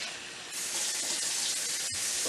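Tap water runs steadily into a pot of chunky homemade chili, a continuous rushing splash that swells slightly partway through and is then briefly cut off.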